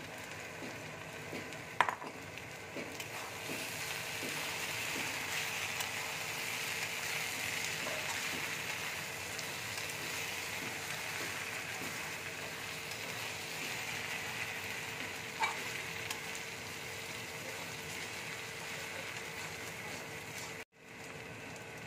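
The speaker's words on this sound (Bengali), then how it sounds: "ভালো করে বাঁধাকপিটা আমি কষে নেব।" Cabbage with fried potatoes is stir-fried in a pan, a soft continuous sizzle with a few scraping clicks of a spatula, fairly quiet and with no one talking.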